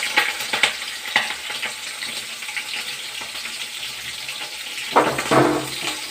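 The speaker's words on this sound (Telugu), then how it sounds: "పచ్చిమిరపకాయ తాలింపులు వేస్తున్నాను" Green chillies and cumin sizzle in hot oil as tempering for a lightly fried lady's finger dish. The crackle is close and busy, broken by sharp clinks and scrapes of stirring, with a louder burst near the end.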